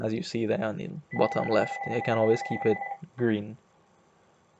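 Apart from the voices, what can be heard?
telephone bell ringing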